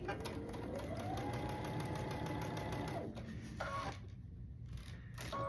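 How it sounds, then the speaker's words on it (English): A sewing machine runs a quarter-inch seam on a quilt block, its fast steady needle chatter holding for about three seconds before stopping, followed by a few short bursts of stitching, close and clear. "stitch a 1/4 inch, get those out of my way, stitch a 1/4 inch"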